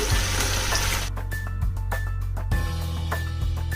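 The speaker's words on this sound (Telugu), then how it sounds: "వీటిని ఆయిల్ బాగా వేడెక్కాక మీడియం ఫ్లేమ్లో పెట్టుకుంటూ ఫ్రై చేసుకోవాలండి, గోల్డెన్ కలర్ వచ్చినంత వరకు" Wheat semolina snacks deep-frying in hot oil over a medium flame, a steady dense sizzle and bubbling throughout with a few soft clinks and stirring knocks on top.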